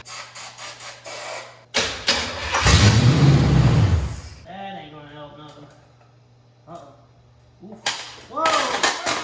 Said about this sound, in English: So I think for now I'm just gonna try and run it on starting fluid.